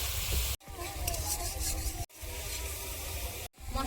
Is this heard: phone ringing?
no